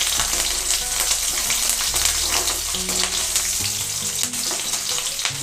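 Green chillies go into a ghee tempering of mustard seeds and cumin for ghee avalakki (beaten rice). The hot fat gives a loud, steady sizzle with crackling pops and the scrape of stirring, and no voices.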